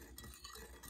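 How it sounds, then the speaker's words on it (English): Sugar is stirred into boiling water in a pot to make a pickling brine for Vietnamese daikon and carrot in a remote Alaskan cabin kitchen. A faint utensil swishes and scrapes under a quiet simmer, with no talking. "we're just going to go ahead and stir in our sugar into our boiling water"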